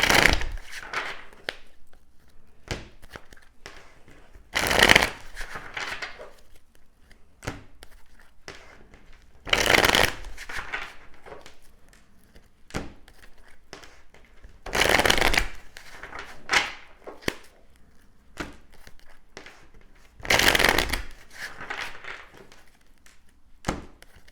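Tarot cards are shuffled in repeated bursts roughly every five seconds, each a loud riffling flurry, with faint taps and card handling between them, close and with no talking.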